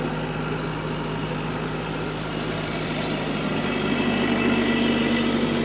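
A Kubota L2502 tractor runs steadily on saturated, wet ground. Its engine gives a continuous loud diesel drone and hum with no breaks and no talking.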